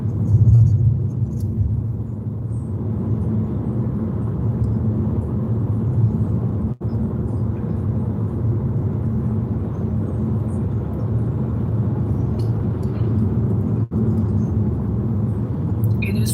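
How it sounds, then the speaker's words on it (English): Strong wind buffets a car hard enough to rock it side to side, heard from inside as a steady, loud low roar that runs unbroken through the whole stretch, with two brief dropouts. "It is so windy."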